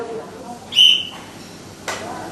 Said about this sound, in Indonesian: Pak Sony, tugas Anda adalah meniupkan peluit tersebut.